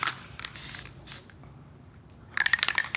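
Spray paint hisses onto EVA craft foam in short close bursts, two quick sprays followed by a quiet gap, then a sputtering, crackling spray toward the end.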